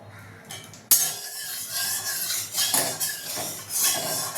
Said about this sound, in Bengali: ঘি আর সাদা তেল মিক্স করে নিলাম।